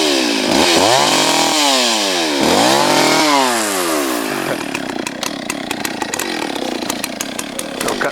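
A Stihl chainsaw, an MS 310 or 034 AV Super, runs loud and close in cold weather, revving up and down in repeated swells before settling into a steady, rough idle with crackling bursts.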